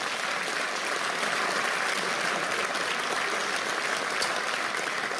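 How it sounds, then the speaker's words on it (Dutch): Audience at a comedy class finale applauds a group, a dense, even roar of clapping that holds steady throughout without letting up. "Dus geef ze een applaus daarvoor."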